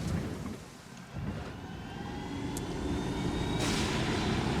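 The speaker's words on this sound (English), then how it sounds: "I think I can call a helicopter. Let's hope it comes right in front of me." A helicopter arriving in the Ghost Recon Wildlands video game, its engine and rotor roar building steadily louder as it draws near over a low background rumble.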